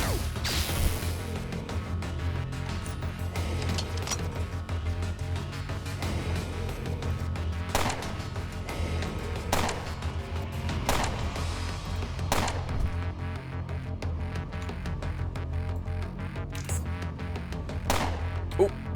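Gunfire with standard rounds in the game Underrail, a series of sharp separate shots and impacts at irregular spacing over a busy backdrop of game sound and music, fairly loud, with no voice.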